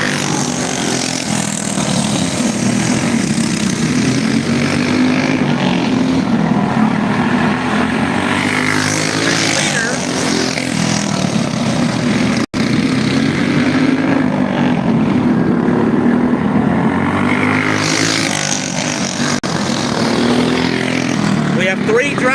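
Go-kart engines buzz around a short dirt track at a race, a loud, continuous droning that swells and fades as the karts pass, with a voice talking over it.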